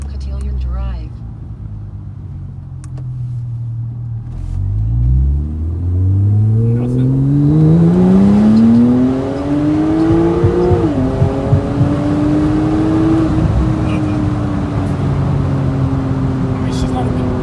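A Porsche 911 Turbo fitted with methanol injection accelerating hard on a road test drive, its engine note climbing steadily through the revs with a gear change, loud and close from inside the car, with talk under it.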